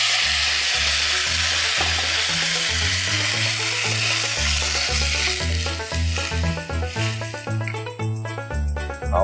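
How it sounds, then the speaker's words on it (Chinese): Thai basil prawns stir-fried in a pot, a steady loud sizzle with scraping stirs that keep up a rhythmic clatter throughout, alongside sustained tonal music. "然后就稍微拌炒一下之后呢"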